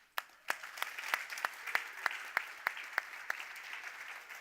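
A last big round of applause at an XPRIZE Healthspan finalist announcement, heard as sparse, distinct, fairly rhythmic claps standing alone at moderate distance.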